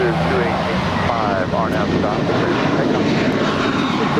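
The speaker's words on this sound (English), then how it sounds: "an Airbus A321 with JetBlue Airways, flight 1874, departing to Newark Liberty" A JetBlue Airbus A321 takes off from runway 25 right at Los Angeles airport, its engines giving a loud, steady roar from start to finish while a radio voice and a commentator talk over it.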